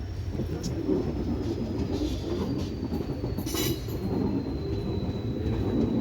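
A passenger train on the Kollam–Tenkasi line rumbles along steadily with a dense low roar and rattling wheels, faint squeals rising briefly above it, heard from close aboard.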